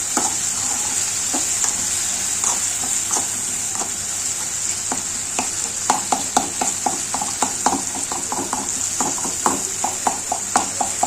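Mutton gravy masala frying in a pan under a constant hiss, with rhythmic scraping knocks of a spoon stirring it that grow busier and louder toward the end, close by, no speech.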